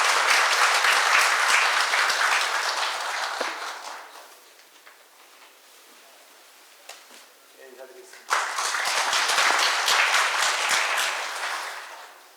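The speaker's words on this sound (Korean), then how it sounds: "힘찬 환영의 박수 부탁드립니다." Welcoming applause from the audience at a Korean healthcare industry labor-management meeting swells loud and dense, fades to near quiet for a few seconds, then bursts back strongly before tapering off.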